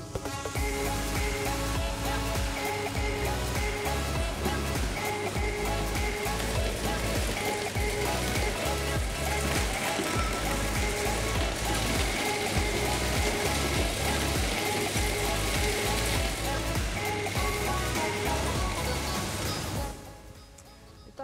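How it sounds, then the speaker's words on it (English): A nut kernel and shell separating aspiration column runs as cracked nuts pass through it, making a loud, continuous rattling and clattering mechanical roar that drops away sharply at the end, with no talk. "And now we will pass this through the aspiration column."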